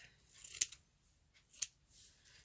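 Scissors snip through ribbon in two quick, crisp cuts about a second apart, close and fairly quiet, with faint handling noise between them.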